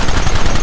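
Rapid gunfire in the Red Dead Redemption video game, a dense burst of loud, closely spaced shots rattling continuously with no talk.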